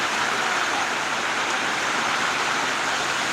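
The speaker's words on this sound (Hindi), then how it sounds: "देखिए हमारे यहाँ बारिश कितनी तेज़ हो रही है, आप लोग लाइव देख सकते हैं।" Heavy rain falls in Durgapur, a dense, loud and steady hiss of downpour with no breaks, heard alone.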